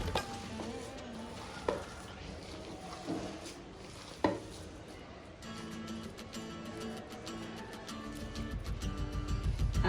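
Curry leaves are stirred into a cooking mixture in a pan with occasional scrapes and clinks, then a rising sizzle builds toward the end, close and fairly quiet.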